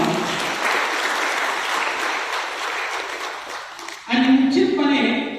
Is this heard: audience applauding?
yes